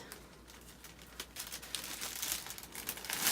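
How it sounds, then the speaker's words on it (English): Tape pulled and pressed along the seam of a bite-size candy bar bouquet gives a close, soft crinkling and ripping that grows louder and busier toward the end, with no other sound. "So we're going to add a little bit more tape to that"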